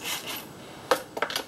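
A small metal retaining clip falls onto the ground during a Prius engine swap, making one sharp tap followed by a few quick, light bounces and rattles.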